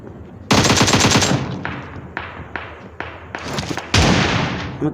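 An AKM rifle firing in a video game: two loud, dense full-auto bursts with a few single shots between them, close and punchy with ringing tails, no talking.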